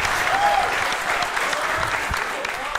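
A stand-up comedy roast crowd at a grand finale show in Bandung breaks into loud, sustained applause with a few whoops, a dense wash of clapping that carries steadily throughout.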